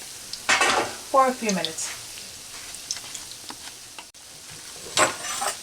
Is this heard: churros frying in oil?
yes